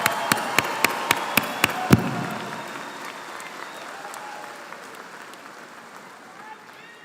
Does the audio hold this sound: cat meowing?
no